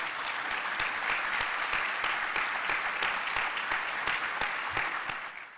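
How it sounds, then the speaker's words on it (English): Luncheon audience at a charity event applauding elected officials, steady dense clapping across the room throughout, fading slightly at the end. "let's have a round of applause for our elected officials"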